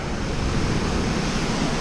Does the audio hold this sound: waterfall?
yes